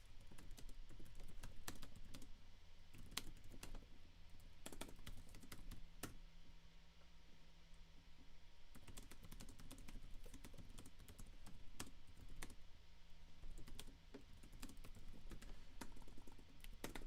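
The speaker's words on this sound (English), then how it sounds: "I'm not sure if you could see what I'm typing" Someone types on a computer keyboard in quiet, uneven bursts of crisp key taps with short pauses between runs. There is no talking.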